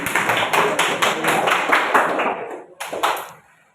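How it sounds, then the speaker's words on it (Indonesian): Children clap their hands in a lively burst of applause indoors, dense and loud at first, then breaking into a few final claps that fade to quiet. "Oke, tepuk tangan untuk kita semua."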